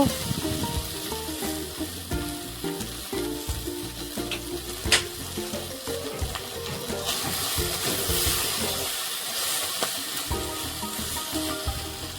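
Okra frying with turmeric in a pan as it is stirred, giving continuous sizzling with scraping and clattering from the spoon, with a brief quieter stretch partway through.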